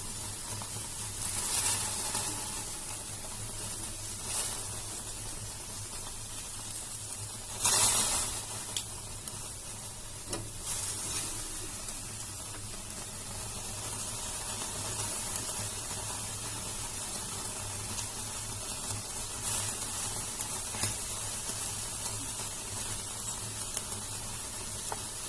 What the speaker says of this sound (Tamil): நல்லா கிரில் ஆகிட்டு இருக்கு, நம்ம திருப்பி விட்டுக்கலாம்.